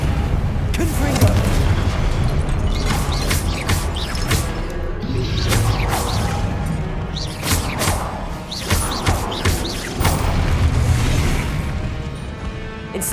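Repeated Confringo blasting spell explosions in Hogwarts Legacy, a string of sharp booming bursts at irregular intervals over continuous loud battle noise.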